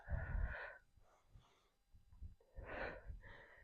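Heavy breaths in and out during a squat workout, several loud, close, rushing exhales and inhales spaced about a second or two apart with quieter gaps between.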